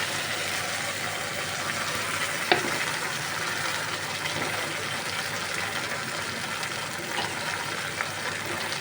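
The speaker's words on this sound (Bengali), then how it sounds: "আমি খুব ভালো করে ভেজে নেব মশলা খুব ভালো করে" A spice paste of onion, ginger and tomato fries in hot oil for a tilapia curry, giving a steady, loud, even sizzle with a couple of faint stirring knocks.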